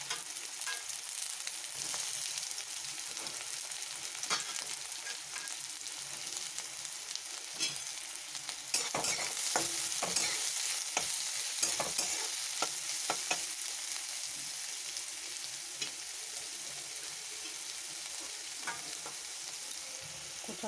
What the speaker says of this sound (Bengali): দিয়ে দিলাম সরষের তেল, সব কিছু একসাথে ভেজে নেব